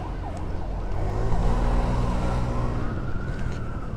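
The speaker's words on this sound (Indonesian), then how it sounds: "ngejar ambulan di depan guys" An ambulance siren wails from a vehicle on the road ahead, its rising and falling tone carrying at moderate distance over the low rumble of traffic and a following car.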